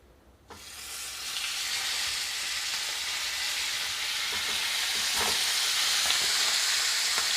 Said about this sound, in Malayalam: ഇനി നമുക്കിതിലേക്ക് ചിക്കൻ പീസ് ഇട്ട് കൊടുക്കാം.